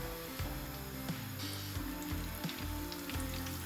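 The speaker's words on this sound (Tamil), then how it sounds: "நான் வந்து ஊட்டி வச்ச கட்லெட்டை பொரிக்க போட போகிறேன்" Oil sizzles and crackles steadily as fish cutlets fry in a pan, close and continuous, with occasional soft clatters.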